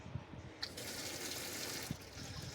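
Cold tap water running into a pot in a home kitchen, a soft continuous gushing hiss that holds steady at low volume, with a couple of faint clunks at the start and near the end.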